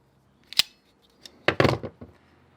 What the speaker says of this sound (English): So there we go, we've just crimped that on.